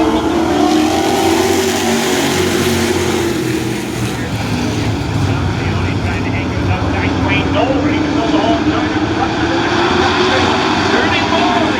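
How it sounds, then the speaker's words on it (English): Racing trucks accelerate together at the green flag of an oval race, a loud, sustained roar of engines that swells and sweeps past, with a race announcer talking over it throughout. "We're ready to go. Green flag racing with Jared Giordano Jr."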